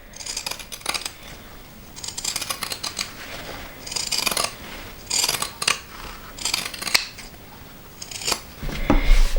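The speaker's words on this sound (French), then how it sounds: "je prends mes ciseaux cranteurs et je vais enlever le surplus de tissu" Pinking shears snipping off excess fabric from a sewn seam, a run of crisp repeated metallic cuts in short bursts, close and loud with no talking.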